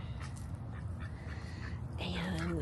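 Geese honk and call nearby outdoors, with the calls growing stronger toward the end over a steady bed of low rumble and background noise.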